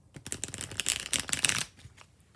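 A deck of tarot cards being riffle-shuffled up close, a dense rapid fluttering of cards lasting about a second and a half before it stops.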